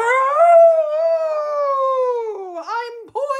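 A voice imitates a dingo's howl in one long, sustained, wavering wail that dips briefly near the end before a short final rise, loud and close with no other sound.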